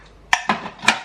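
Dark chocolate being roughly chopped with a knife on a board, three sharp, close knocks spaced irregularly within about a second, with no talking.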